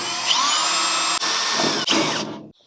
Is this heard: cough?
no